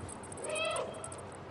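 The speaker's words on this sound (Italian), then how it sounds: "Il gatto fa miau e basta." The cat in the video game Stray lets out a single short, soft meow over a quiet background.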